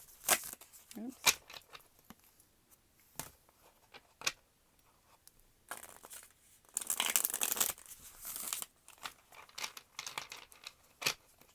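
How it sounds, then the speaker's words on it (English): Tarot cards riffled and shuffled in bursts of crisp flapping and crinkling, with scattered taps and paper rustles between, quiet and close. "Three shuffles."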